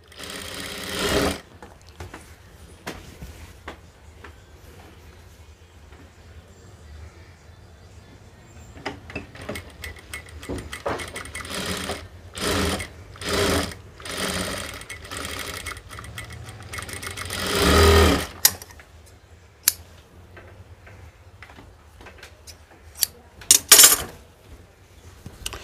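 Sewing machine stitching a stretch knit collar band onto a garment, with bursts of rapid, whirring needle stitching that start and stop repeatedly and are close and fairly loud, plus occasional clicks and clunks between runs.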